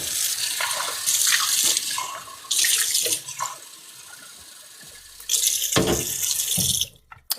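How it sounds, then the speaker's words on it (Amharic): Water runs from a shower, loud rushing and splashing in several bursts with quieter dribbling between them and a short pause near the end. "ሻወር እንገባለን"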